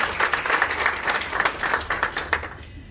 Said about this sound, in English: Let's give her a round of applause, ladies.